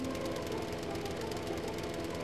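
A lawn mower engine in the Xbox indie video game Mower drones steadily and loudly with a rough, knocking rumble throughout, with no talking over it.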